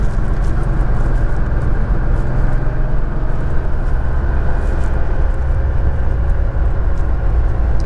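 Cars run parade laps on a race track, a dense steady engine and road roar that stays loud and even throughout, with no voices.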